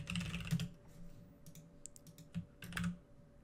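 A quick flurry of clicky keystrokes on a computer keyboard while a Minecraft command is typed, close and fairly quiet, with short pauses between clusters of taps.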